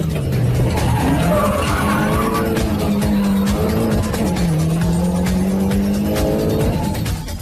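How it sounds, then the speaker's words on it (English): A Mini Cooper race car spins out mid-race, its engine revving loudly with rising and falling pitch while the tires squeal and skid, a continuous close and intense roar with no one speaking. "suddenly he spins out of control and drops back in the field"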